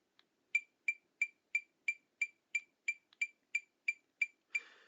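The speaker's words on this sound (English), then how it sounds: "to set the metronome to the number 180." A metronome set to 180 beats per minute ticks in an even, rapid series of about a dozen crisp, clear clicks alone in quiet.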